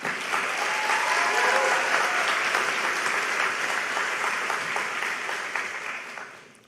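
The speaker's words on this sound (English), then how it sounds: "Please give yourself another round of applause" Sustained applause from a large audience at a spring 2023 graduation ceremony, honoring the graduating class; dense, steady clapping that fills the space for several seconds before tapering off at the end.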